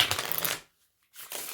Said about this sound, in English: That's an in the hands riffle.